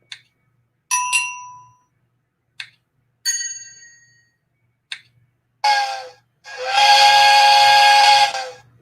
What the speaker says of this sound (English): I'm just going to go with the work whistle.